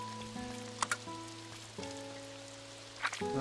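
In the video game Doraemon Story of Seasons, soft rain patters steadily beneath a gentle melody of sustained game-music notes, with no voices.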